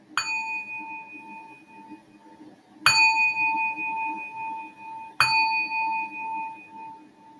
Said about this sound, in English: until you hear the sound of the bells.